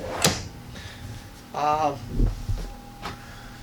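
A storage compartment door opens inside a 2020 Tiffin Allegro 34PA motorhome, making a sharp latch click followed by a short creaking slide and a few soft knocks, all close and at moderate volume.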